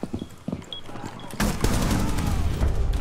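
Rapid gunfire in Rainbow Six Siege breaks out about halfway through and keeps going as a loud, dense stream of shots, after quieter game sounds and clicks.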